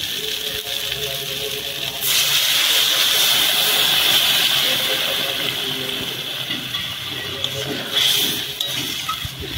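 Water poured into a pan of hot oil while cooking mustard pointed gourd, a loud hissing burst of steam and sizzle that rises suddenly, holds, then settles, with a second flare near the end.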